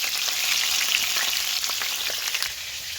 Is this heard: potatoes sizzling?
yes